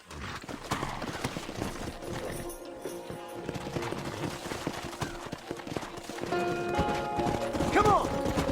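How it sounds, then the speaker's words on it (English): Horse hooves clip-clop in the Western video game Red Dead Redemption, a steady trotting rhythm running throughout, with a horse whinnying near the end and voices and game sounds mixed in. "Horses are over here!"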